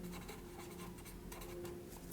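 Chalk or marker scratches across a classroom board in a short burst of writing, a quiet, continuous scraping with no one talking.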